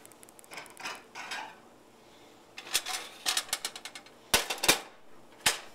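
Cooked eggs from a Hungarian omelette being scraped and set onto a plate, with soft utensil scrapes followed by several sharp clinks of metal against crockery, close and fairly quiet, no talking.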